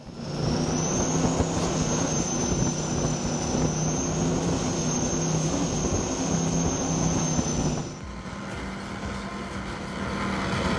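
A steady, loud helicopter drone with a thin high whine on top holds for several seconds above a powerboat poker run in Tampa Bay, then the whine cuts off and a lower hum continues.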